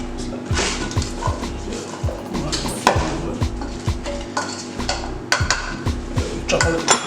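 Roast ingredients for a Jamaican Christmas roast dinner are spooned and tossed into a metal roasting pan, giving repeated close clinks and scrapes of a spoon on the pan, with people talking over it.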